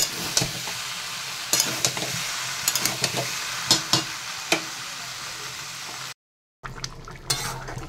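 Potatoes with onions and green chillies fry and sizzle steadily in a pan, stirred with a utensil that scrapes and clatters in repeated bursts; a brief silent gap comes near the end before the frying resumes.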